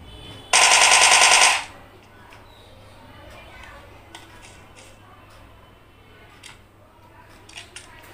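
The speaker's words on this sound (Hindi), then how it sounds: "मैं थॉमसन को चलाता हूँ और काफ़ी अच्छा एक्सपीरियंस मिलता है मुझे टॉमी से यहाँ पर।" A Thompson Tommy gun fires one rapid, loud burst lasting about a second in PUBG Mobile, followed by quieter game sounds and faint clicks.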